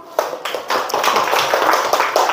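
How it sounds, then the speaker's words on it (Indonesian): Classroom hands clapping in a primary school lesson, a short burst of many close claps from a small group of pupils, dense and irregular, with no talking. "Kasih tepuk tangan dulu."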